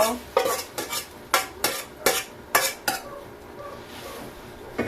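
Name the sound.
stirring sautéed tomato, onion, garlic and mung beans in pot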